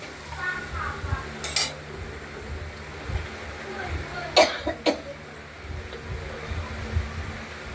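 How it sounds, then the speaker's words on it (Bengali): Spice masala with turmeric is sautéed together with potatoes in a kadai, giving a low sizzle with occasional scrapes and knocks of a utensil, broken by a cough. "মশলাটা আবার আলুর সঙ্গে আমরা কষাবো"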